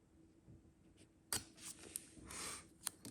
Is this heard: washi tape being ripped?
yes